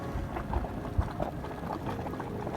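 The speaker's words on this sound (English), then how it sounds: "Ground is boiling." Low bubbling and gurgling churns steadily with a few soft pops from geothermal boiling ground in Lassen Volcanic National Park, with no voices.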